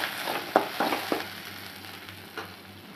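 Green chillies frying in a pan for a moong dish, a soft steady sizzle with a few sharp spits and crackles early on that then settles to a quieter hiss.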